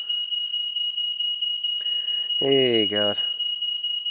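A house smoke alarm just outside a kitchen door, set off by a lit oven, emits a continuous high-pitched piercing tone throughout, while a man briefly exclaims over it.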